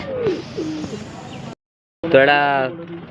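A Punjabi pigeon at a pigeon market coos briefly and close by after a short pause, following a stretch of someone talking.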